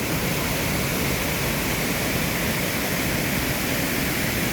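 Ibom waterfall at Arochukwu, heard up close as a steady, loud, dense roar of falling water that stays constant throughout with no voices.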